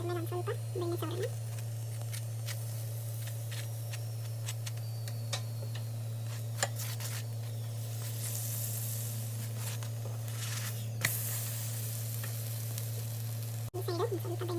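Gobi paratha sizzles steadily in butter on a hot pan, a continuous frying hiss with occasional ticks and scrapes, while a person talks over it.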